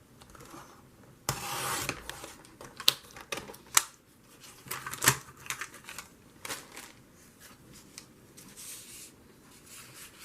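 Paper trimmer slicing through sheets of craft paper, giving a few sharp, close cutting swipes and scrapes amid quieter rustling and handling noises.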